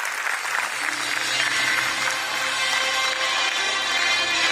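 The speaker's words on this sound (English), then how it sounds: "A huge round of applause." Sustained applause from an audience at a school annual day prize giving, steady clapping filling the hall for several seconds without a break.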